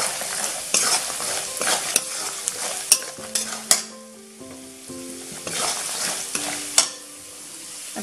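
Coriander-cumin powder and turmeric being stirred with spices in a hot pan for Kolhapuri spicy puffed rice, sizzling under repeated sharp scrapes and clanks of a spoon against metal.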